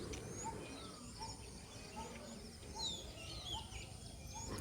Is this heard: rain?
no